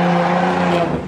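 A BMW E46 M3 drift car idles loud and close with a deep steady engine rumble that drops slightly near the end.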